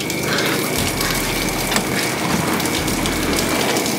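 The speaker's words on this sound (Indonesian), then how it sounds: "Hujannya deras banget ya" Heavy rain pouring down outdoors, a dense, steady rush of drops spread across the whole clip, loud and close, with no talking.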